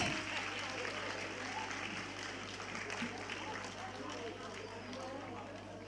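Dense applause from the audience at the inaugural function of the 5th International Youth Festival, a steady wash of clapping that holds the whole time over a low constant hum.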